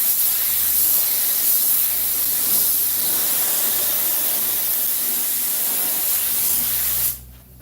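Steady, loud hiss of a spray gun applying coating to the springs of a 1950 Ford truck seat during restoration, continuous for about seven seconds before cutting off abruptly.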